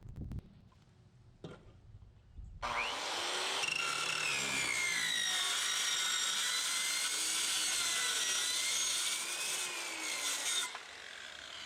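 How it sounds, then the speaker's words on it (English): A circular saw bites into the steel tank of an electric water heater, a loud, sustained high-pitched whine with grinding that starts abruptly after a few faint clicks and runs steadily for about eight seconds before cutting off. "I can get the circular saw in to cut the tank"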